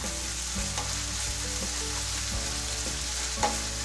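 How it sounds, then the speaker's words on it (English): Onions sauteing in a pan for Pennsylvania-style sloppy joes give a steady close sizzle, broken by a few soft scrapes of stirring and a small clink near the end, with no talking. "So I want the onions to saute"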